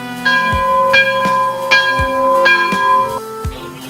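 Bells ring in a quick, overlapping sequence with bright struck tones that linger and blend into a continuous resonant chiming.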